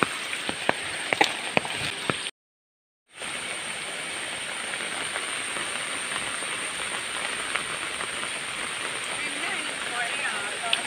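Water splashing underfoot on a flooded road during monsoon rain in Kerala, a steady wet broadband wash with scattered splashy clicks and one brief gap of silence.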